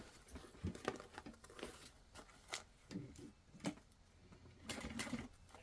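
A sewing machine stitching a backpack, running in short, separate bursts of rapid stitching with pauses between them, quiet and close, with faint handling rustles and no talk.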